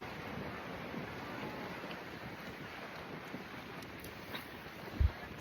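Strong wind buffeting the microphone on Navarre Beach, with steady surf rushing underneath in a dense, continuous roar, plus a brief low thump near the end.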